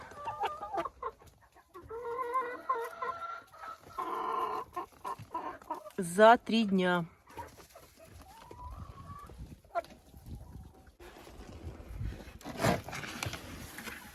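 Chickens clucking and squawking in a henhouse in mid-January, with loud close cackles and drawn-out calls rising and falling among scattered softer clucks, while someone speaks briefly.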